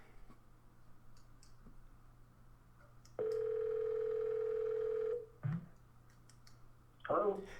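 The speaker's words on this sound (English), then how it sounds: "Let's go ahead and punch up Bill on the phone, the promoter of the Kumite Classics" A telephone dial tone hums steadily for about two seconds while a line is called, with clicks before and after and a clunk as the call connects.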